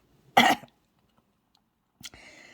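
One sharp, close cough, then a pause and a second shorter throat-clearing cough that trails into a faint tone.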